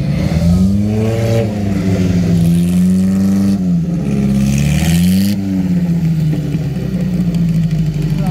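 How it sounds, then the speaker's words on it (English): A Bandini classic racing car drives in at a concours event, its engine loud and steady throughout with rising and falling revs as it approaches close by, no talk over it. "Look at this Bandini coming in."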